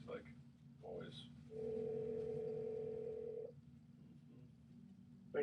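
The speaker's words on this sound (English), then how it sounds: "And then we'll just call him back on the landline." Landline telephone call ringing: a single steady electronic ring tone held for about two seconds, with voices talking faintly before it and low background hum throughout.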